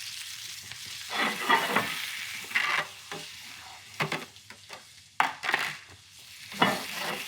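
Eggplant searing in a hot cast iron pan, a steady sizzle and frying hiss with bursts of louder spitting as pieces are laid in and moved, close and without talk.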